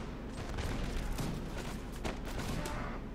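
Dense, distant massed musket gunfire rolls continuously in the Mount & Blade Warband L'aigle Napoleonic mod, a steady crackling fusillade with overlapping shots and no clear gaps, fairly faint.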